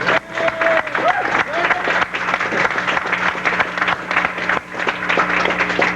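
Audience applause at a cable access anniversary party in 1983 for J.W. Friday, a dense steady clapping wash filling the room throughout, with a hum underneath and faint voices mixed in.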